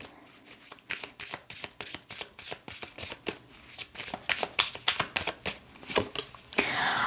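Tarot cards are shuffled by hand in quick, irregular riffling bursts, close and fairly quiet, with no talking.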